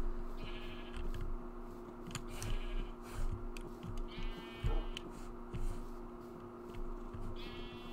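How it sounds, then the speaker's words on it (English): Several sheep in Minecraft bleat one after another in a loose, overlapping chorus, each cry wavering and nasal, heard at a moderate distance over a steady low background hum. "I have an army of sheep."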